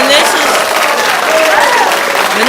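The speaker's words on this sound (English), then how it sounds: "We're going to give them a round of applause, too, by the way." Applause from a live stream audience fills the whole moment, a steady dense wash of clapping with a voice talking over it.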